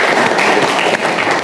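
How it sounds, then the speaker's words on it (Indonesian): Classroom of students applauding, a dense, loud burst of many hands clapping close by, continuous for the whole moment with no voices on top. "tepuk tangan."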